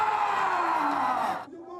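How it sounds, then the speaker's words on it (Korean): Football fans cheer and roar in a loud, sustained crowd swell as South Korean Premier League player Hwang Hee-chan of Wolverhampton appears at a rainy fan event, the noise dropping off sharply near the end. "팬들의 환호 속에 황소 황희찬이 등장합니다."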